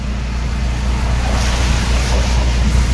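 Heavy rain pours down in a steady, dense broadband hiss that stays constant and loud throughout, with no voices.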